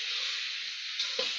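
Cut banana flower tossed into spices frying in a kadai, a steady close hiss of sizzling oil with a brief stir-like rustle and thump near the end; no talking.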